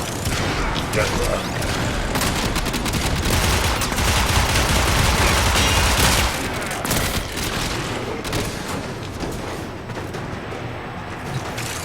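Video game gunfire: dense, continuous shooting with rapid bursts and booms, loud and sustained for the whole stretch, with a voice faintly underneath.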